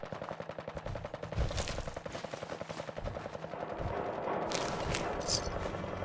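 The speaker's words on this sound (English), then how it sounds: "God damn fucking machine gun in the background." Machine gun fire in the Fallout 4 video game, a rapid continuous rattle of shots mixed with other gunfire and clatter, dense and steady throughout at a moderate level.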